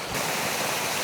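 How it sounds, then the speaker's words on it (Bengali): Steady, full-bodied rush of falling water from a nearby hillside waterfall in Thanchi, Bandarban, continuous and unbroken. "সামনে তো একটা ঝর্নার মতো জায়গা পেলাম"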